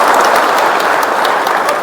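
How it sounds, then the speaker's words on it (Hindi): Loud, steady applause from a large audience at a town hall inauguration ceremony in Bharatpur, dense clapping filling the whole short moment without a break. "मैं चाहूँगा एक बार जोर से तालियां बजा के"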